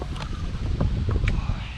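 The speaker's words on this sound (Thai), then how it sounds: "ลมเย็นดี" Cool wind blows outdoors on an off-road hill trail, buffeting the microphone with rough, gusty rumbles, while voices speak faintly nearby.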